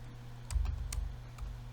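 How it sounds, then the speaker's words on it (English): Keys clacking on a computer keyboard in a short burst of uneven taps, close and moderately loud over a steady low hum, with a few sharper clicks toward the end. "Man, I'm struggling with the typing today."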